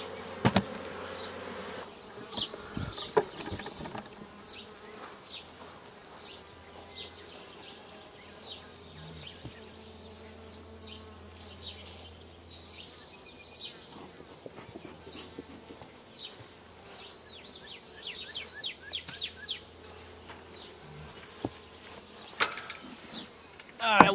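Honey bees buzz steadily around backyard beehives during a June hive check, a continuous drone with scattered louder passes near the listener and occasional handling knocks.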